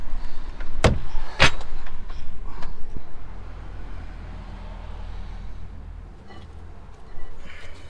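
A jack lifting a Vauxhall Astra H during rear spring replacement: two sharp metallic clanks close together, then a low steady mechanical hum with faint creaks.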